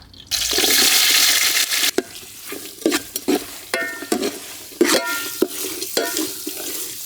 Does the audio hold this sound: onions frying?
yes